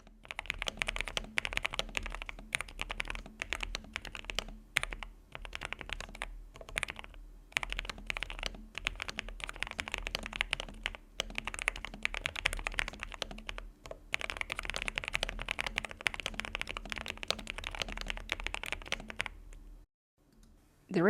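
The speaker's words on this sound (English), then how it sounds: "let's see or hear the typing sound of the Note 100" Steady, fast typing on a NuPhy Node 100 low-profile keyboard with red Nano linear switches, soft muted clacks in quick bursts with brief pauses, close up and fairly loud.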